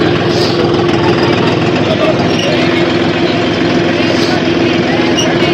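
A John Deere 4x4 tractor engine rumbles steadily at low pitch as it crosses a drain, loud and close, with voices talking over it.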